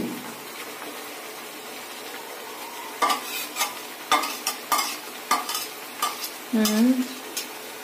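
Chicken pieces dropped into spiced masala in a pan, a quiet sizzle that turns into a run of sharp spatula scrapes and stirring clatters, close and irregular, with the frying hiss continuing between strokes.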